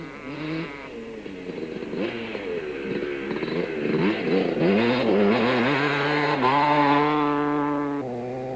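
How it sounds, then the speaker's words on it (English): Racing motorcycles, Suzuki, Kawasaki and Honda, at the 1993 Baberspan 1000 race roar loudly and close, their engines whining and revving up and down as the bikes pass, with no talk. "Willie Ireland on the Super Tyre Suzuki was as spectacular as ever, with a pair setting the day's fastest times"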